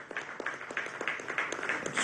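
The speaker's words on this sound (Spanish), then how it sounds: "un aplauso desde aquí" A crowd in Guárico applauds at an outdoor public health event, steady scattered clapping at moderate distance with a few voices calling out over it.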